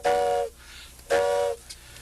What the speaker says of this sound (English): The old train,